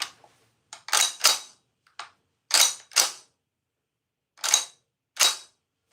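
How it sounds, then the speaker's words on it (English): Metallic clacks and snaps from racking and working the action of an M1 carbine rifle, in several separate sharp bursts with short pauses between, close and fairly loud with no talking. "So here's the M1 carbine."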